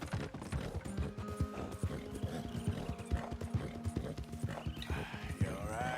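Hooves clip-clop steadily as a Kentucky Saddler horse is ridden across open country in a Western game, the rhythmic trotting beats sitting near and continuous, with faint mechanical clicks and a brief whinny mixed in.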